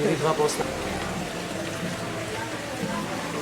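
Water trickles and patters close by in a steady, busy wash, with faint voices in the background.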